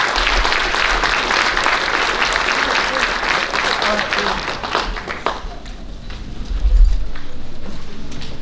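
A banquet hall crowd claps loudly for a varsity softball team at a high school athletic banquet, the dense applause thinning toward the end with a few scattered claps and a low thump.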